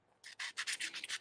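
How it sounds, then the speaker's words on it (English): Metal pieces being sanded on their backs to clear away burrs, a quick run of short rasping strokes, close and fairly quiet, with no voices. "So I'm just sanding the backs right now and getting rid of any kind of burrs."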